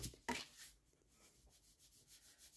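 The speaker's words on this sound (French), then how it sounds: "je vais gommer mes traits quand même" Rubber eraser rubbed over pencil lines on a handmade paper card: a brief scrubbing burst near the start, then soft, faint, intermittent rubbing strokes, quiet and close.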